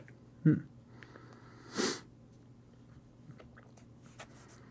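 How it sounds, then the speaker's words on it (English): Two sharp sniffs from a person with a cold, one close and strong and a second, slightly longer one a moment later, followed by a quiet room with faint small noises. "These sniffles are getting the better of me."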